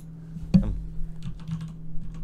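Computer keyboard typing comes as a few light, close key clicks after a sharper thump, quiet and irregular over a steady low hum.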